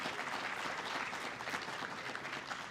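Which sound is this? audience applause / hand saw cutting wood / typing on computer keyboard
audience applause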